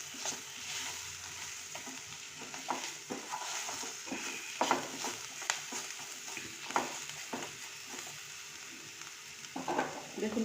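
Vegetables with salt, black pepper and green chilli frying in a pan, a steady broadband sizzle throughout with scattered clicks and scrapes of stirring, close and fairly loud, no talking.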